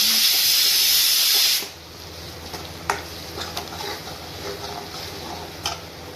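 A pressure cooker on a home kitchen stove vents steam in a loud, steady hiss that cuts off abruptly after about a second and a half, followed by quiet clicks and light kitchen clatter.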